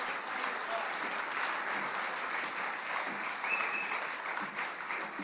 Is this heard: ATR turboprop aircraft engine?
no